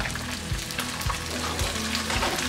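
Yellowfin tuna sears in a hot pan with a steady, close sizzle and crackle, punctuated by a few low thumps and scrapes from the pan, with no voices.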